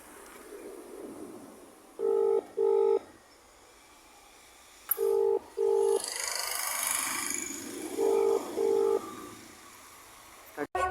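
Three pairs of short electronic dialing beeps sound at steady intervals over a quiet, faintly noisy background, with a brief muffled voice in between.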